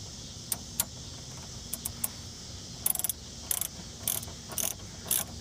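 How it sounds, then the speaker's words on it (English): A ratchet clicks in short, irregular bursts while tightening a bolt on a Ford Focus during a coolant flush, close and moderately quiet over a faint background hum. "I'm just going to tighten up this bolt."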